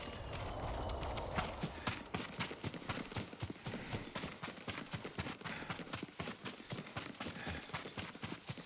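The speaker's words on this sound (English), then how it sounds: "Yuriko's horse. She can't be far." Horse hooves clip-clopping steadily at a brisk, even rhythm in the video game Ghost of Tsushima, fairly close and continuous with no other prominent sounds.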